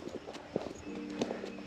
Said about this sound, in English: But we had a horse and buggy.